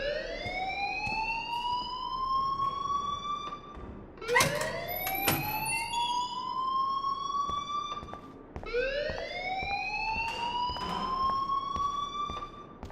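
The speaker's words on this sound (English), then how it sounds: "please turn off that alarm since that's your job." A school alarm in the video game Life Is Strange wails with rising siren sweeps that repeat in long cycles, steady and fairly loud, with faint clicks and thumps beneath and no talking.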